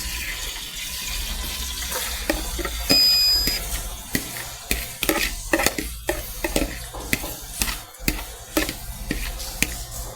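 Chopped onions tipped into hot oil, giving a steady sizzling crackle with scattered clinks and scrapes from a pan and utensil, heard close up with no talking.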